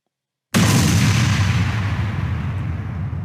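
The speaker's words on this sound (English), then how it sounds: "if I play the scene back, it plays the explosion" A sudden loud explosion sound effect bursts in after half a second of silence, followed by a long, dense rumbling roar that slowly fades, with no voices.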